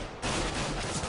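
An AK rifle firing in a Counter-Strike esports match, a loud dense burst of gunfire that kicks in after a brief lead-in and sustains for under a second, close and harsh.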